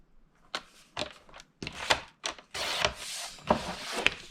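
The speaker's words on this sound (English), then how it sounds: "I'm bringing in my trimmer, and I am trimming this down to 3 7/8 inch" A paper trimmer cutting paper for a mini book bag craft, a series of short close scraping and sliding strokes in irregular rhythm, growing into longer rasping passes toward the end.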